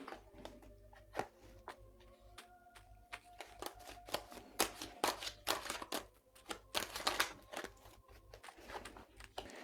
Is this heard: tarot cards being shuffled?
yes